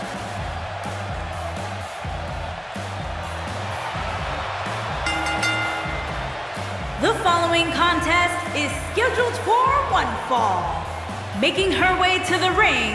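Arena crowd in the WWE 2K18 video game cheers and roars behind entrance music and a ring announcer's voice, swelling louder in the second half with bursts of whistles and yelling.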